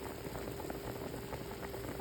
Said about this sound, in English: You want to go ahead and boil it with this meat here